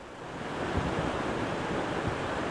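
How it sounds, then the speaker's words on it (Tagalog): The Buwed River rushes strongly, producing a dense, broadband roar of water that is steady and fairly loud. It runs throughout with no voices over it. "Isa rin sa ikinababahala ng ilang mga residente ang lumalakas na ragasa ng tubig sa Buwed River."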